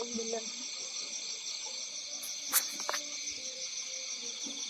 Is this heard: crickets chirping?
yes